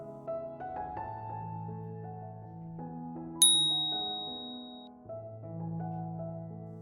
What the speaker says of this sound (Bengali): খেতে বসার আগে কলিং বেল বেজে উঠল।